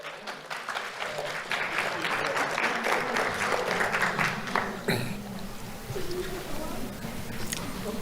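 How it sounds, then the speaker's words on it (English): Sustained applause from an audience at a sheriff's office award ceremony for an elementary school kindergartner, steady clapping filling the room for the full length with a few louder claps near the middle. "Let's have a round of applause for Peter Leacock"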